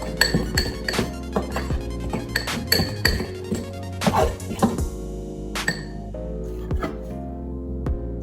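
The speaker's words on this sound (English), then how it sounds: "12 chocolate chips into the mixture, and I'm gonna mix it inside" A spoon mixes chocolate chips into brownie baked-oat batter in a glass bowl, giving a series of sharp, irregular clinks and taps against the glass. The sounds are close and fairly loud, then thin out toward the end, with no talking.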